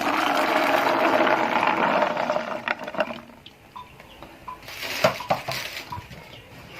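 A pot of peas, carrots, tomato and minced meat being stirred, with a spoon scraping and clinking against the pot in irregular bursts after a stretch of louder sizzling, close by.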